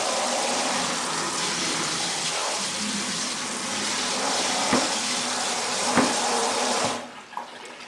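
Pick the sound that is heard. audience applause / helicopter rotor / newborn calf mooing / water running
water running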